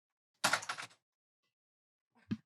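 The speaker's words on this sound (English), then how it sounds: "I'm gonna lock the door." Door lock clicking shut indoors: a short rattly burst of metal movement followed, after a pause, by a single sharp latch click, close and fairly loud, with no voices.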